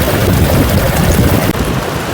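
Water from Sissu waterfall rushing across a mountain path, a loud, steady, close roar with some wind buffeting and no talking.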